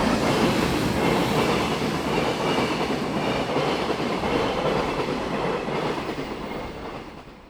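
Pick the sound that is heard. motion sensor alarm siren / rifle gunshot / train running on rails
train running on rails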